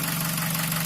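A Nissan QG18DE car engine idling with a knock, a steady close rumble that holds even and continuous throughout, with no voices over it.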